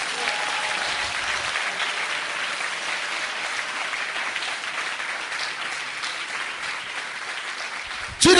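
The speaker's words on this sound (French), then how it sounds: "On acclame le Saint-Esprit." A church congregation applauds steadily and at length, a dense wash of clapping from many hands in a large room.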